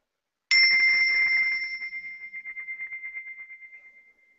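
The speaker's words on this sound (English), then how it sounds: "Oh, I love the sound of those bells." A single bright bell strike rings out clearly and then sustains, its tone slowly fading with a gentle pulsing shimmer over several seconds.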